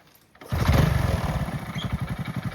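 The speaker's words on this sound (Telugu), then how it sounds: "గేర్ వేసినప్పుడు సౌండ్ వస్తుంది" A geared motorcycle engine catches and revs, then settles into a steady, pulsing idle with a rhythmic chug close by as it is shifted into gear.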